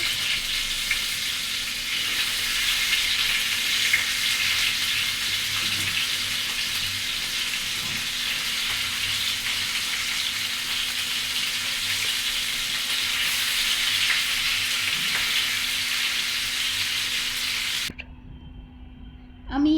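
Chicken seekh kebab sticks fry in a pan over medium heat, giving a loud, even sizzle that runs unbroken for about eighteen seconds before cutting off abruptly.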